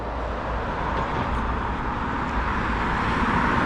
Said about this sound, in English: although the noise from the cars is quite loud